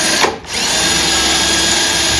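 A power drill bores out a 3/16 rivet on an interior door handle of a Malibu, a steady loud whine that dips briefly near the start, then runs on evenly with no talking.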